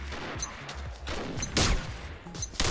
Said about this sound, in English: I shoot someone.